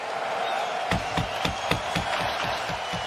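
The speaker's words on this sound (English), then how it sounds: "Crowd appreciating the play here of the Blues" A hockey arena crowd at an NHL playoff game between the St. Louis Blues and Winnipeg Jets cheers, then breaks into steady rhythmic clapping, about four claps a second, over a constant distant roar.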